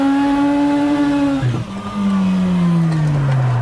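Rotary-engined Mazda MX5 drifting on a go-kart track, its engine buzzing loud and close with a high revving tone that dips briefly, then climbs back and slowly falls away.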